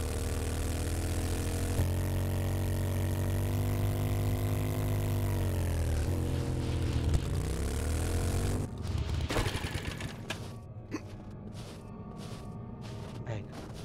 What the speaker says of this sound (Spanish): Bonito es nuestro helicóptero, ¿eh?